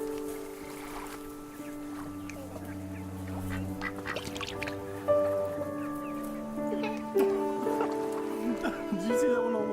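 Ducks quacking and honking in the video game That Dragon, Cancer, several birds calling repeatedly at close range over steady tonal game music, with people talking over them.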